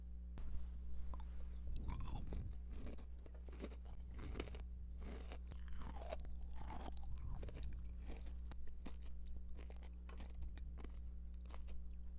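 Close, quiet crunchy chewing of jelly candy with a crisp shell and jelly inside, with bites and crisp crackles in the first half fading into softer chewing over a low hum.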